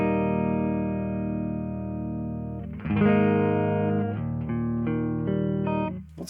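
A clean Jazzmaster-style electric guitar with Duncan Antiquities pickups rings out with a sustained chord, then a fresh strum and a few picked notes that decay steadily, heard close and alone.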